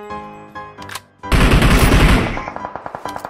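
Gunfire in a shooting video game: a loud, sustained automatic burst that tails into a rapid run of fainter, evenly spaced shots, with no talking.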